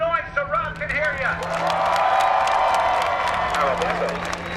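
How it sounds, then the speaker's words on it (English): Airshow crowd cheering and clapping at NAS Oceana: a sustained wash of applause and shouts swells and holds loud and steady, with a whistle-like tone and an announcer's voice over the start. "Crowd, make some noise so Rob can hear you."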